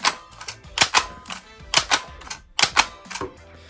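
A label printer feeds paper and prints labels with rapid clattering mechanical bursts that repeat in an uneven rhythm, close and fairly loud, with no voices.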